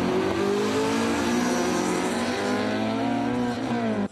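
Street drag race cars on a 402-metre airfield strip in Khakassia accelerate hard, the engine note climbing steadily in pitch, loud, close and unbroken.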